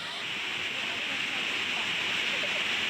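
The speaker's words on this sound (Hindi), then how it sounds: "तो पूरे शबाब पर ये झरना, तो झरने को देखने पहुंच रहे हैं पर्यटक" The Ghata Rani waterfall in Gariaband runs in full flow during the monsoon floods, a constant, loud roaring rush of water that carries on unbroken throughout.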